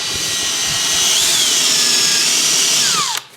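A power drill bores a pilot hole into a guitar body, giving a loud, steady high whine with a faint pitch drift for about three seconds before cutting off abruptly.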